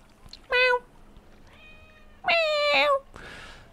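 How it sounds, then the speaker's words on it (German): A cat meows twice in a quiet indoor game scene, with a short faint mew between, each call clear, close and harmonic, no talk over it. "die Katze ist weg, aber da ist sie ja schon"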